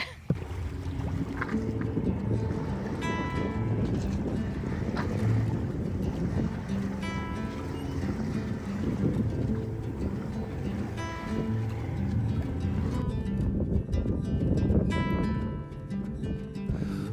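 A sailboat under full sail moves through water with a continuous rush of water and wind noise on the microphone, plus occasional creaks and rattles on board, loud and steady throughout.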